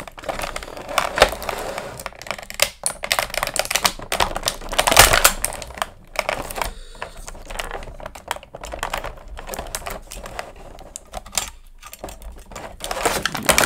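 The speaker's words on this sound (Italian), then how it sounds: "mi aiuto con un taglierino per tagliare tutti questi laccetti" A box cutter slices through plastic ties on toy packaging, producing a string of quick, irregular clicks and snaps at close range, with brief pauses between the cuts.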